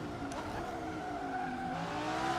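A car in the Assetto Corsa racing game, from Dream Pack 3, drives with a steady engine drone that climbs in pitch under faint tire noise. It is continuous and fairly loud, with no voices.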